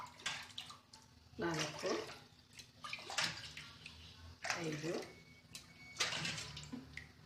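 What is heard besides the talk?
water poured from a tumbler into a pot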